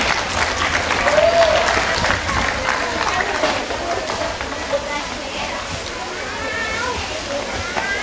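An audience claps for a child model at a school art-school fashion show, with steady, moderate applause mixed with faint crowd murmur and a few voices in the background.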